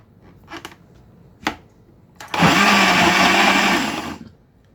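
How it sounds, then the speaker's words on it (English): Kitchen blender whirring as it purees peppers in tomato juice for Nigerian spaghetti jollof, starting after a few clicks and knocks, running loud and steady for about two seconds, then winding down. "So now we're just gonna blend."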